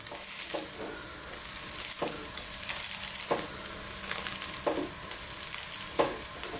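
An egg omelette for omelette pav sizzles in a hot pan, a steady frying hiss broken by several sharp scrapes or taps of a utensil, close and moderately loud with no talk.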